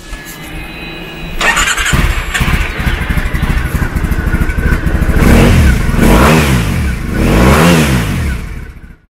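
A 2010 Triumph Thruxton 900 motorcycle starts up, then its engine idles loudly and close before being revved in two or three rising and falling bursts, with no talking.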